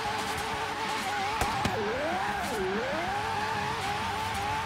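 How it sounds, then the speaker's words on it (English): A Lamborghini drifting through city streets in Forza Horizon 3, a steady engine drone with pitch swinging up and down as it slides, and a couple of brief knocks partway through. "I'll just drift around the streets for a bit, see how it handles"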